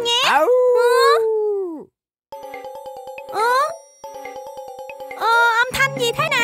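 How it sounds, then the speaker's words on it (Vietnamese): Drawn-out, wavering howls of a cartoon wolf in a children's animated song rise and fall in several long calls separated by short gaps, loud and close, with bright chiming tones layered underneath. "Ta là sói, kẻ phản diện lén lút nhất trong trang trại của Bình Phong đây."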